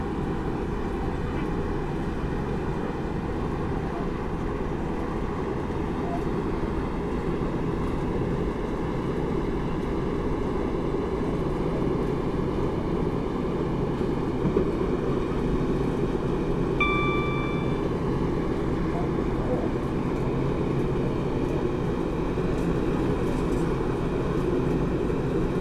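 A Class 156 diesel train runs in Train Simulator on the Lincoln Central to Newark Northgate route, its engine drone and rumble of wheels steady and close, with a brief high horn-like tone partway through.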